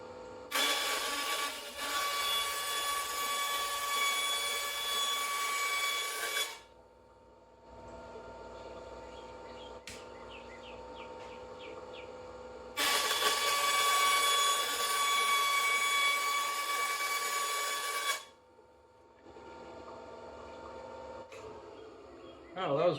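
Bandsaw ripping a plastic sheet into strips: two long, loud, steady whining cuts of several seconds each, separated by a quieter machine hum and some handling noise.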